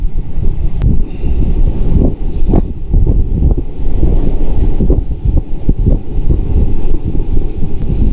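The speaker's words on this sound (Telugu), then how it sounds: "విండ్ 60 కిలోమీటర్ల వేగంతో వీస్తుంది గాలి, గంటకు 60 కిలోమీటర్ల వేగం." Strong wind of about 60 km/h blows over a rough Indian Ocean sea aboard a ship, producing loud, continuous buffeting and rumbling with surging gusts and wave wash.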